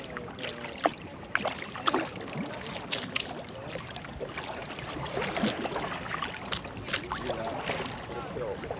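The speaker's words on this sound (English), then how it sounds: "practice those draw strokes to move the boat sideways through the water" Kayak paddle draw strokes moving a boat sideways on open water, irregular splashes and drips over wind buffeting the microphone, with light water lapping throughout.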